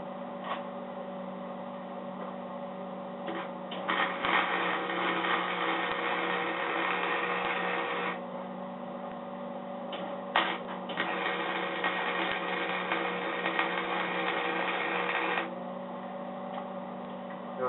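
Tack welding a nut onto a homemade sheet metal brake, two long bursts of buzzing, crackling arc noise over a steady electrical hum, close by with short quiet gaps between.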